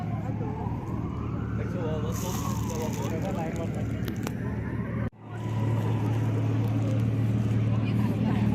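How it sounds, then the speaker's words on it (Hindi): A car stands idling at a traffic signal on a Brussels street, giving a steady low engine rumble that runs unbroken beneath nearby voices and city background noise. "अभी अब इंजन का जो आवाज़ सुन रहे हैं वो इस गाड़ी का है जो सिग्नल पे खड़ी है"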